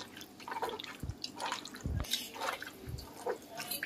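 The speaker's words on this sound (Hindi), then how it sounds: "इस पे थोड़ा सा पानी डालेंगे।" Water drips and splashes onto tamarind pulp in a kitchen while chutney is made, a few wet plops and trickles arriving irregularly, close and fairly quiet.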